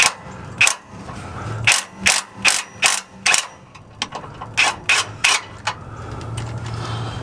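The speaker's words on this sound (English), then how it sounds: "we're going to use a little bit of a cordless impact to get those out" Cordless impact wrench removing the upper shock tower bolts on a Jeep Wrangler during a shock replacement; two loud, close bursts of rapid hammering impacts in quick rhythmic clusters, separated by a short pause.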